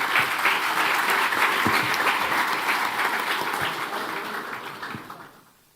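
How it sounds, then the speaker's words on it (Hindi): Audience applause welcoming a speaker at a Nagpur event, a dense steady clapping from a large crowd that holds for several seconds and then fades out at the end. "जोरदार तालियों से आप स्वागत करें।"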